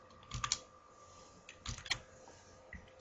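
Short clusters of keyboard typing come from a computer, quiet and close, with a few key taps in separate bursts over a faint steady hum and no speech.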